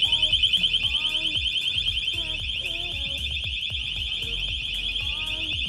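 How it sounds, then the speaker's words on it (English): A Cranns motorcycle disc lock alarm blares continuously, a loud high piercing warbling tone layered with rapid rhythmic chirps, close by and unbroken. "So it sets off a pre-alarm and then it enables the really loud one."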